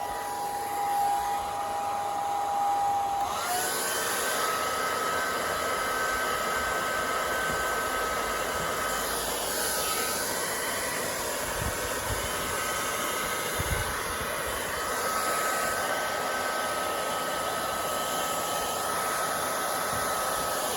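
A heat gun on its high heat setting blows a steady, loud broadband rush of air, switching on a few seconds in and running continuously without pause, used on a Fiat 500 Pop repair.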